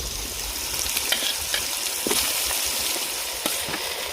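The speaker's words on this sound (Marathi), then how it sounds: "कलेजी शिजत आहे मस्त." Goat liver fries in a pan with a steady, close hiss and sizzle, broken by scattered crackles and pops, and no voices.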